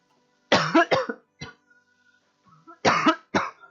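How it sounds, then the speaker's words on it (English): A person with a bad cough coughs two quick times, pauses, then coughs twice more. The coughs are close and sharp, with faint throat sounds between them. "I've had a bad cough."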